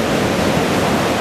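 Ocean waves at Anglet beach give a brief, loud, steady surf roar, a dense wash of breaking water with no distinct crashes and no voices.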